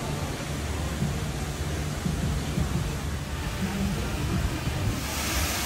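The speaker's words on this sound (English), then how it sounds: "And there's a waterfall there." A waterfall near water in Toronto, heard as a steady, loud broadband rush of falling water that holds constant throughout, with no talk over it.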